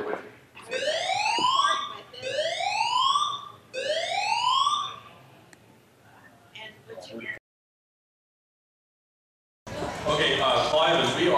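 A building fire alarm blares a repeating rising electronic whoop, three loud sweeps in a row followed by a fading tail, a short silence, then a burst of noisy room sound.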